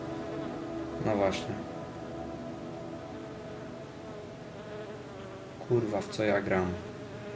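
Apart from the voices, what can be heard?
buzzing fly in a video game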